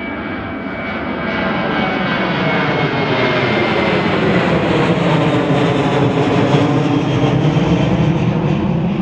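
A KLM Cityhopper airliner on runway 24 spools its jet engines up to takeoff power, a loud building roar that swells after the first second and holds steady, heard alone without voices.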